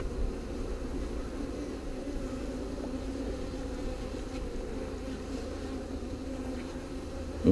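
Honey bees drone steadily and fairly loudly as a split is moved into a new hive. The low, continuous hum holds at an even level throughout.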